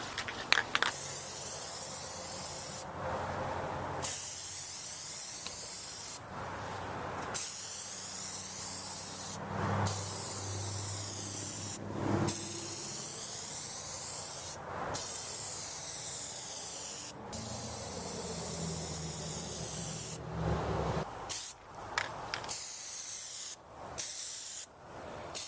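Plasti Dip aerosol can sprays rubber coating onto seats in long steady hissing bursts separated by short pauses, loud and close throughout.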